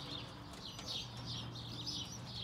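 Birmingham roller pigeons in a loft, heard as a steady background of bird chirps and soft cooing with faint, repeated high calls and low rustling, no talking.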